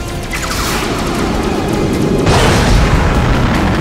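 Starship weapons fire and explosions in the space combat game Star Trek Fleet Command. A loud, continuous barrage of booming blasts and crackling bursts builds in intensity, with no voices.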